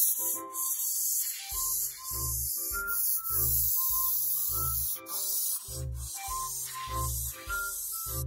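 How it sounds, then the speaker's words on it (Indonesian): Spray paint hissing onto a steel plate in a children's cartoon car-repair game: a steady, continuous bright hiss running under a bouncy, plinking melody. "Lalu semprot plat baja dengan cat."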